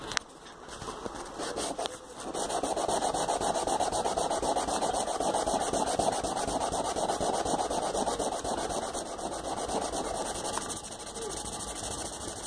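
Sandpaper of 80 grit silicon carbide rubs back and forth in a continuous rasping scrub that is close and fairly loud. The sanding starts after a brief lead-in.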